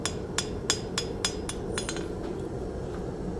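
A hammer planishes metal on an anvil during forging, ringing out in a quick series of about eight sharp, bright strikes at a steady rhythm before falling quiet over a low background hum.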